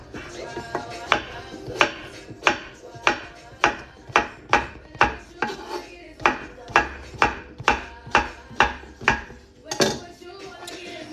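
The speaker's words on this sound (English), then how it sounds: "I'm gonna just slice these in like little wedges, I think, for the stick." A knife chops zucchini and red onion into wedges on a cutting board, making a steady run of about twenty crisp, evenly spaced knocks, close and clear with no talking.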